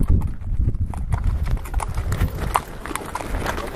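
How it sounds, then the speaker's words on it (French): Horse hooves clip-clop steadily on stone paths during a ride through Petra in Jordan, a close, continuous patter of uneven hoofbeats with faint background murmur. "Après cette petite balade à cheval,"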